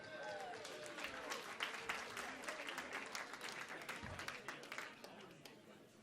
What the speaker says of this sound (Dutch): Maak een applaus voor Marcel en Leonard